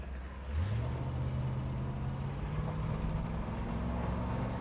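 A 1969 Ford Mustang Drag Pack R Code with a 428 engine, its deep exhaust note swelling as it revs and pulls away, then holding at a steady loud drone with no talking.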